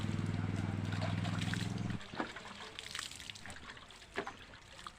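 Water splashes and trickles as hands and face are washed with water drawn from a village well, with a sustained tonal pour at first, then irregular close splashes and drips; someone speaks over part of it.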